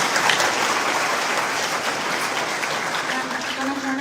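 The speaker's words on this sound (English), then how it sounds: "round of applause for our panel." Applause for a discussion panel at a Rotary International gathering in Houston, a dense, steady clapping from an audience that continues evenly throughout with faint crowd murmur.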